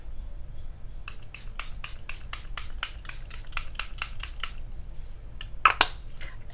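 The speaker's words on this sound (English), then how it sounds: "So let's go ahead and spray." Makeup setting spray hisses out in about a dozen quick, evenly spaced pumps, close and fairly soft, followed by a brief pause and a final couple of bursts.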